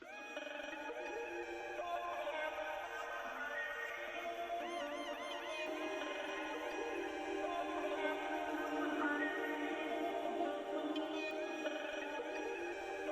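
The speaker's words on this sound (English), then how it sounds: "And then all together, the vocals sound like this" Chopped vocal samples stacked together in an ambient drum-and-bass or breakcore track form a dense, busy wash of overlapping pitched voices and wobbling tones that runs continuously for the whole stretch.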